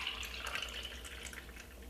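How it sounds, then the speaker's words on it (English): A morning drink is poured into a glass as a soft, steady liquid trickle with light splashing, fairly quiet and close, with no voices. "And pour it into that beautiful glass."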